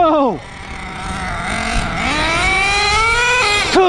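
An HPI Savage X 4.6 nitro RC truck running rich, its small engine screaming and rising in pitch as it revs, with a brief drop and a final burst at the end, loud and close.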